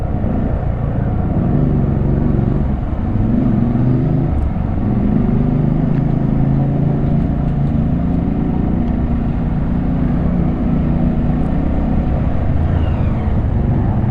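A Harley-Davidson motorcycle engine runs steadily nearby, a loud, constant low rumble that holds for the whole stretch without voices.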